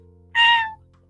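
A person imitates a cat's meow in one drawn-out, rising and falling call of about half a second, fairly loud and close over a faint steady background hum.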